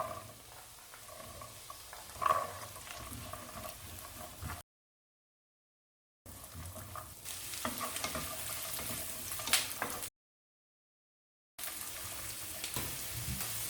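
Vegetables with capsicum and cabbage sautéing in butter and garlic in a pan for vegetable noodles: a quiet, continuous frying hiss with occasional stirring scrapes, broken by two stretches of silence.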